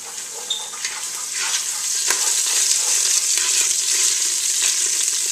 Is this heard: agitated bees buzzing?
no